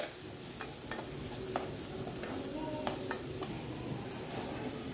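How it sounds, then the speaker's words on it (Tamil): Masala being sautéed in a pan for a Chettinad paneer gravy, a soft steady sizzle with occasional sharp taps and scrapes of a ladle against the pan, close and without talk. "அது அந்த அளவுக்கு நல்லா வதக்கி வச்சிடலாம்."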